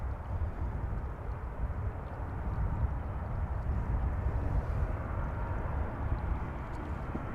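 KLM Boeing 737-800 arriving at Amsterdam Schiphol from Paris Charles de Gaulle, a distant, steady jet roar that swells slightly midway, mixed with outdoor wind.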